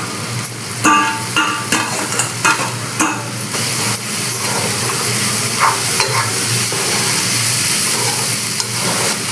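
Spice masala frying in a pan as sprouted-bean usal goes in, loud close sizzling with a burst of clattering spoon scrapes and knocks early on, then a steadier hiss with occasional stirs.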